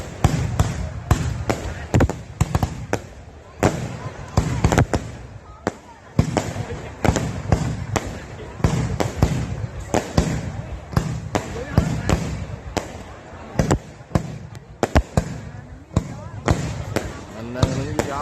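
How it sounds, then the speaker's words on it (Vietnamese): New Year 2024 fireworks display outdoors, with dense, irregular loud bangs and crackling bursts repeating throughout, close and booming, with people talking intermittently beneath the explosions. "tới giờ bắn pháo bông rồi"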